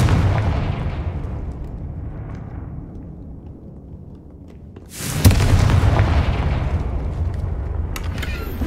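A Confringo blasting spell goes off in the Hogwarts Legacy video game: a heavy rumbling backdrop fades, then a sudden loud explosive boom bursts and leaves a dense, roaring blast noise behind it, with no voices.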